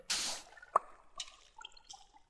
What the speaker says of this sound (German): Ja, da ist Wasser.